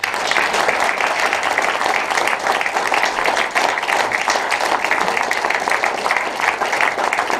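Loud, sustained applause from an audience at a political election meeting in Llanelli, thick and even throughout with no voices above the clapping.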